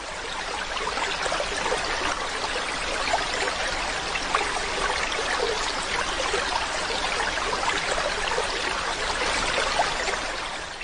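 A flowing river stream for a radio play, a steady, even rush of water trickling and bubbling without pause, fairly soft and alone with no voices.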